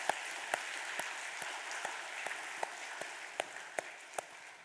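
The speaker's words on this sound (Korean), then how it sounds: "힘차게 하나님 감동의 박수" Church congregation clapping together during a Sunday worship service at Gyulhyeon Church, a steady run of sharp claps rising over a soft crowd bed, moderately loud and close with no talk.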